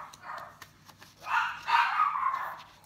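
Dogs barking indoors or just outside, a few short yips followed by a longer run of loud, overlapping barks, fairly close, with no talk.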